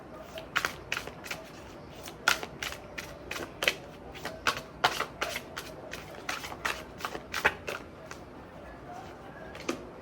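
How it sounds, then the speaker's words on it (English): Oracle and tarot cards shuffled close up, a steady run of crisp riffling flicks and soft card slaps repeating throughout at moderate level, with no talk. "I'm going to pull a few cards and then I'll pull your oracles"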